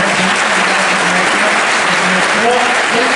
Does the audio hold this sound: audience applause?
yes